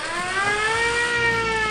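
A rising and falling siren sound effect, sustained and loud with clear harmonic tones sweeping steadily, sounding alone without speech.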